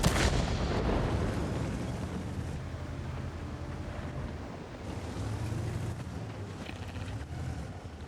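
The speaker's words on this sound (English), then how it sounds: "Artillery immediately wants to shoot at me." Artillery fire in the World of Tanks video game opens with a heavy boom, then fades into a continuous low rumble and distant blasts under a windy, roaring background.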